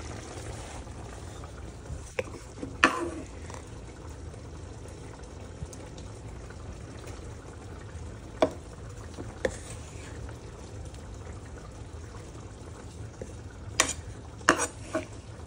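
Shrimp and pork stir-fry in a pan with a low, continuous sizzle, broken now and then by sharp scrapes and clatters of a utensil against the pan.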